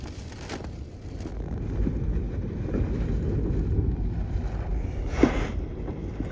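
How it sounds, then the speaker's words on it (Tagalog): Steady roaring wind with a dense hiss of heavy rain, continuous and loud throughout, with an occasional rattle or knock from a shaking car parking shed in Ras Al Khair. "lakas ng ulan malakas maalog-alog yung car parking shed o oh, kalakas ng hangin"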